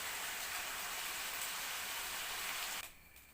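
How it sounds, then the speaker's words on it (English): Chicken breast frying in a pan gives a steady, close, hissing sizzle that cuts off abruptly near the end, leaving a faint residual hiss. "I'm frying my chicken breast a little bit."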